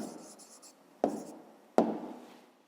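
A pen writing down the answer to a decimal math exercise, scratchy strokes on paper broken by two sharp taps as new marks begin, close and quiet, no speech.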